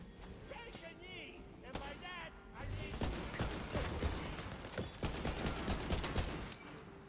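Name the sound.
rifle gunfire like an M1 Garand in Tiny Tina's Wonderlands video game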